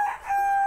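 A rooster crows briefly among chickens in a poultry shed, a single short tonal call heard close and fairly loud, with no speech.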